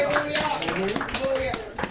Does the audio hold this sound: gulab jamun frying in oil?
no